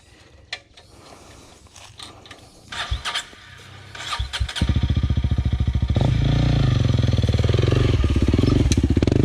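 A new Honda CRF300L motorcycle climbs a hill in first gear, with clattering mechanical knocks giving way to a loud, steady engine drone that builds and holds near the microphone.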